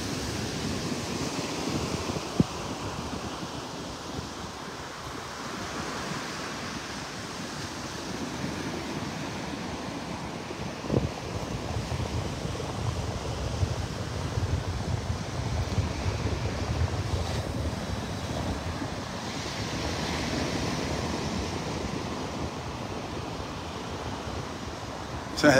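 Ocean surf washes steadily onto a seaweed-strewn beach at the high tide line on North Hutchinson Island, a continuous broad roar of breaking waves mixed with gusting wind buffeting the microphone, with no one speaking.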